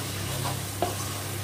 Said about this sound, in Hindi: इसमें 4 चम्मच चीनी डाले हैं और इसे भी हम मिला लेंगे